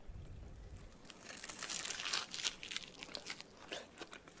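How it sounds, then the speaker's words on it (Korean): Crunchy bites and chewing of a fried kimbap filled with cheese, egg and kimchi fried rice, eaten with runny egg yolk; close, crisp crackles in bursts, no talking. "이제 노른자까지 같이 먹어볼게요."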